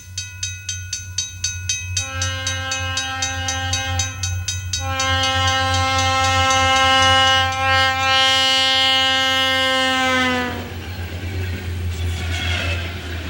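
A steam locomotive hauling a passenger excursion on the Wisconsin Central sounds its whistle in long, loud, sustained blasts, stopping and restarting, over a low steady rumble of the train, ending with fading rolling noise.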